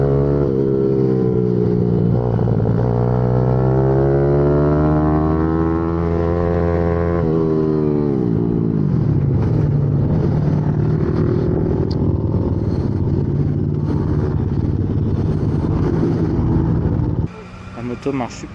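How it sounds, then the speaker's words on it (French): A YCF pit bike engine revs up and down through rising and falling harmonic sweeps, loud and close, with a rougher idle toward the end; a person speaks over parts of it. "La moto marche super bien."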